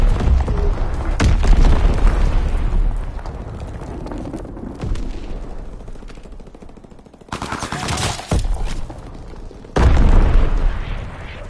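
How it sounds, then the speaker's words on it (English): Explosions from an enemy bombing run in a console war game, with heavy booms and bursts of gunfire rising and falling, loud blasts near the start, around eight seconds and near the end. "Enemy bomb incoming."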